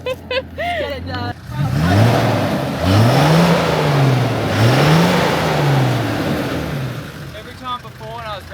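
A 4x4 engine, stuck in a freezing river, revs up and down in repeated rising and falling swells, loud and close, with brief voices at the start and end.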